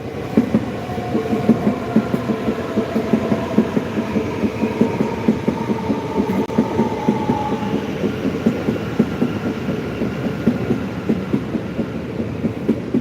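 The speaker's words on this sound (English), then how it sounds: "Just before you go, there's another train." A diesel N-class passenger train in Gippsland passes steadily, with continuous rumbling and rhythmic wheel clatter over rail joints for the whole stretch, moderately loud and without voices.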